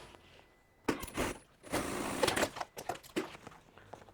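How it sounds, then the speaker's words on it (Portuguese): Sewing machine stitching crystal clear plastic for a boxy toiletry bag with a visor: short bursts of close mechanical whirring and rattling, a few separate runs of stitching with brief pauses between them, no talk. "do plástico cristal, costuro."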